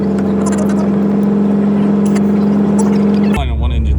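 The number 2 engine of an 85-year-old Douglas DC-3 runs with a loud, steady, droning hum that shifts abruptly near the end, while people talk over the noise.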